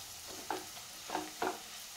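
Salted samosa filling is stirred in a pan, a faint steady sizzle with three soft scraping strokes spaced about half a second apart, no speech.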